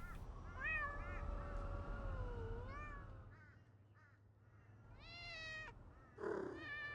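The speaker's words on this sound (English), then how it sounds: "I wish I could stop and pet the cats, but there's no petting mechanic." Several cats meowing in the video game Thirty Flights of Loving, drawn-out mews overlapping against soft ambient noise, moderately close, with no speech.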